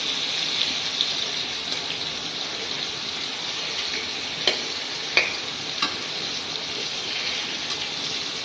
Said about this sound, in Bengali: পটল ভাজা হচ্ছে, দেখতেই পাচ্ছ তোমরা, আমি পটল ভাজছি।